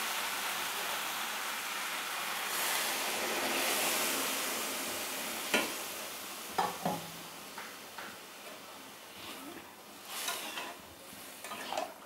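Water poured onto sautéed masala for a potato, pointed gourd and prawn curry, a soft steady hiss followed by scattered scrapes and clatters of a spatula against the pan, no voices.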